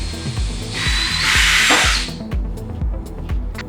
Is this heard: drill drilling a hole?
yes